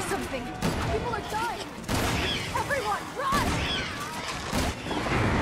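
Repeated gunshots from Resident Evil 6 on PS5 fire in a steady stream of loud blasts, mixed with chaotic game noise and someone talking over them.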